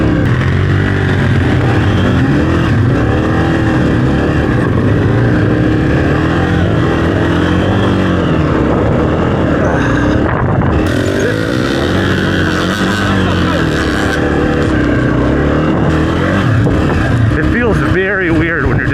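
A dirt bike engine revs and accelerates hard during log-riding training, a loud, continuous rising and falling drone that runs through the whole stretch without a break.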